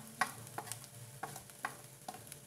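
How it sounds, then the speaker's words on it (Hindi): Ground turmeric, red chili, coriander and black pepper powders fry with onions, a soft low sizzle under a few light clinks and scrapes of a spoon stirring the pan. "इन मसालों को अच्छे से प्याज के साथ भून"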